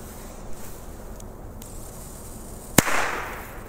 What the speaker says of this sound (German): Hier haben wir noch Pyro-Art-Treiber.